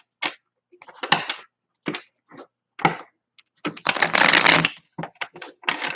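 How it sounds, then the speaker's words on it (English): Tarot cards shuffled by hand in a quiet room, with short papery riffles and flicks in bursts, then one longer, louder stretch of continuous rustling near the close. "give it a couple more shuffles"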